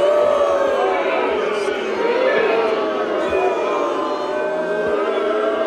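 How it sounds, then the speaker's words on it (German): A large studio audience cheers and applauds loudly for Dr. Evil's appearance, a dense, steady wash of crowd noise and whoops sustained throughout with voices mixed in. "Applaus für Scotts Vater"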